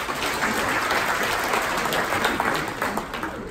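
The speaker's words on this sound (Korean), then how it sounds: "큰 박수로 맞아주시면 감사하겠습니다." Steady, dense audience applause fills the room for an arriving guest at a formal insect-day international symposium, continuous and fairly even throughout with no break.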